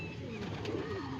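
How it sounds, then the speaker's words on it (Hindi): A yellow-eyed chapka kalsara pigeon gives a soft, brief coo, fairly faint against a noisy outdoor background. "छपका कलसरा दोस्तों, बहुत ही लाजवाब कबूतर।"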